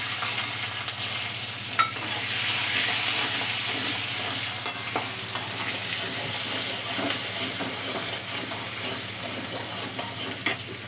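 Dried red chillies, whole cumin, bay leaf and whole garam masala spices sizzle steadily in hot oil for a Bengali doi rui curry, with a loud, continuous frying hiss, occasional pops and a faint stir throughout, no talking.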